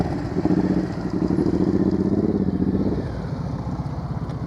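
A boulevard-style cruiser motorcycle during slow-speed riding practice, its engine rumbling close by with uneven throttle blips that rise in revs for a few seconds before settling back to a lower, steadier idle-like putter.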